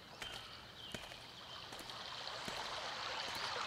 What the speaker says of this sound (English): this slowly flowing river is like...